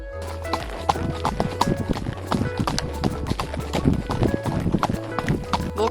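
Horse hooves clip-clopping steadily as the horse is ridden from the meadow to the nearby riding club, with a busy, irregular stream of hoof strikes close by and voices heard in the background.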